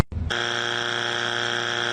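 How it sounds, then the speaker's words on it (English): A loud, steady electronic buzzer holds one harsh tone for nearly two seconds after a brief lower-pitched start. It sounds alone, with no voices. "She gave the buzzer noise"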